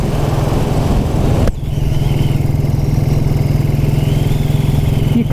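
A 1929 'Black' Ariel motorcycle engine runs steadily at a loud, close, even idle-like thump with a sharp break near the start before the same rhythmic beat resumes, with no talking.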